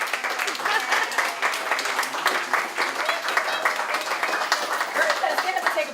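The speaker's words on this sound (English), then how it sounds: "another round of applause for our guest." An audience at a book launch applauds the guest, a lively crowd of clapping hands with individual claps crisp and distinct, steady and fairly close, with some voices mixed in.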